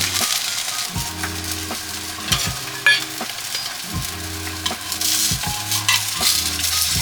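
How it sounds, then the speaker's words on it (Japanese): Sliced onion rings searing in a pan for a Provençal-style grilled sea bream dish, a bright steady sizzle over a low, repeating pulsing hum, with occasional light metallic taps and no talking. "で、玉ねぎの方もね輪切りにしたので、表面だけ焼いていきます。"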